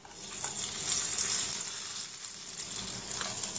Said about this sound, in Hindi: इसमें तड़के को डाल देते हैं